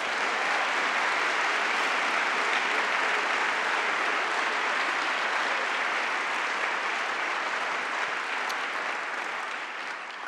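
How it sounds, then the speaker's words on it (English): Sustained audience applause at a lecture event honoring a new head of the Congressional Arts Caucus, a dense, steady wash of clapping from a large crowd that holds for ten seconds before slowly starting to fade. "A round of applause for Shelley Pingree, please."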